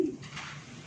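A single soft pigeon coo comes from a pigeon loft, brief and faint, with no voices.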